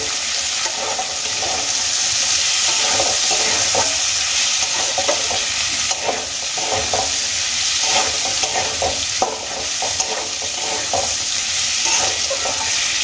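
Potatoes frying in a pan for begun aloo jhal, a Bengali eggplant-and-potato dish, giving a steady close sizzle with intermittent scraping of a spatula as they are stirred, no talking.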